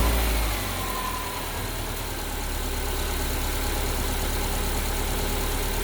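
Steady idle of a 2011 Subaru Outback engine after a serpentine belt, tensioner and idler pulley replacement, a close, even hum with no revving or voices.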